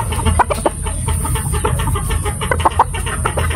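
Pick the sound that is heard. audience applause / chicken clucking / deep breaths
chicken clucking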